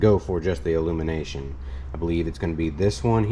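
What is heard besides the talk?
No everyday noise stands out behind the speech.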